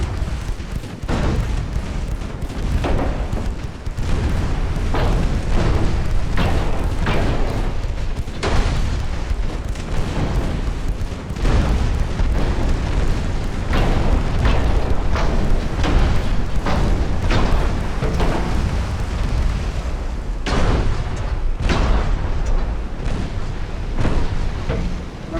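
High-explosive shells bursting in the naval video game Ultimate Admiral Dreadnoughts make dense, continuous rumbling booms and rapid cannon fire, loud and sustained with no pause.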